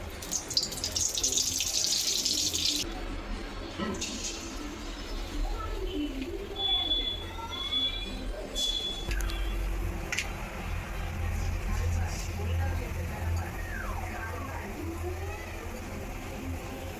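Chicken pakoras fry in hot oil with a steady, hissing sizzle that is brightest at the start, then settles into a softer bubbling with faint kitchen clatter around it.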